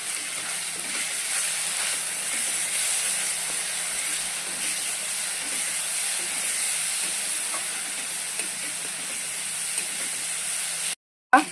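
Spices for a fish curry sizzle and hiss in hot oil with tomato ketchup mixed in, a loud, continuous frying sizzle close up that cuts off abruptly near the end.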